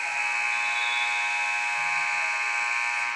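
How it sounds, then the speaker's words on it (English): A basketball game clock buzzer sounds loud and steady for several seconds to end the third quarter of a high school girls' game, one continuous harsh electronic tone filling the gym. "You'll hear the buzzer."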